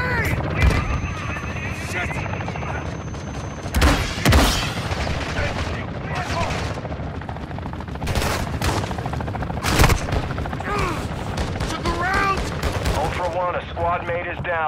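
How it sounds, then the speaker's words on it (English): Gunfire in Call of Duty MW2 DMZ on the Vondel map, repeated loud shots and bursts scattered through the clip, with sharp booms and voices speaking over the firefight. "Taking effective fire"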